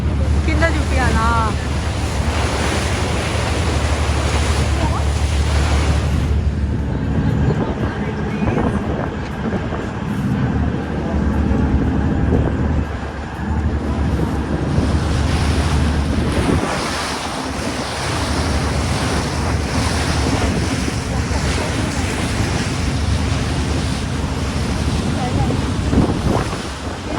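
Loud waves and gusting wind roar continuously on a ferry ride to the Toronto Islands, with heavy wind buffeting the microphone and a low rumble of the boat underneath throughout.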